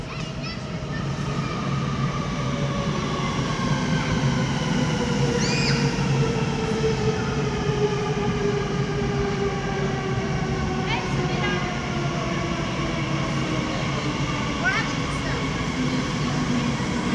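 A train runs past a newly built station with wooden waiting areas, a loud, steady rumble of wheels on rails with long gliding tonal whines and occasional squeals over the whole stretch.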